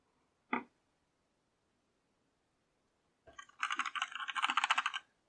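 A single key click is followed after a pause by a quick run of clattering typing on a DEXP Saber budget full-size mechanical keyboard, close and clear in a quiet room.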